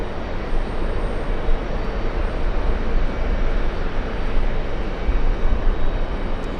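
A Delta Airlines airliner inbound from Edinburgh lands on runway 22 Left at JFK airport, a steady, broad jet roar heard from a moderate distance, swelling slightly and continuing without pause.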